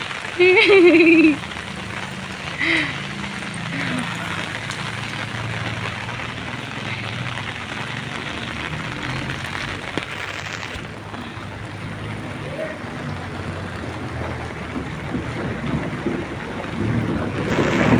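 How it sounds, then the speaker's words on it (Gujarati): Heavy rain falls steadily over Vagda village with a dense hiss and gusts of wind noise, broken by a short tonal burst near the start. "આજે વગદા ગામમાં ખૂબ જ વરસાદ પડ્યો છે"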